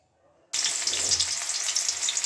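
Spices and onion-garlic paste sizzle hard in hot oil for a Bagerhat village curry of parshe fish, white greens and potato, the frying bursting in abruptly and holding steady and loud without talk.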